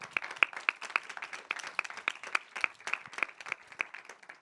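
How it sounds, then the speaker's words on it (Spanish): Sparse applause at a museum talk, a small audience clapping in distinct, irregular sharp claps that stay fairly quiet and close, with no talking over it. "Un aplauso para Dani."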